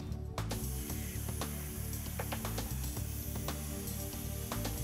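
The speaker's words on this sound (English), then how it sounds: "The pilot arc transfers to the workpiece and becomes the cutting arc." Hypertherm Powermax125 plasma cutter running its cutting arc on a metal workpiece, a steady loud broadband hiss with a strong low electrical hum, continuous throughout with a few brief crackles.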